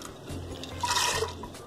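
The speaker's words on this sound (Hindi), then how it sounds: "अब मैं इसके अंदर ये तमाम जो मेरे पास दाल है ये शामिल कर रही हूँ" Lentils slide into warm water in a clay pot with a short splashing, liquid rush, close and moderately loud, lasting just over a second.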